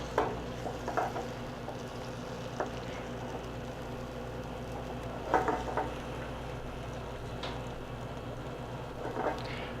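Eggs cook in a pan with a faint, soft sizzle over a low steady hum, while a few scraping strokes come as the eggs are pulled and stirred.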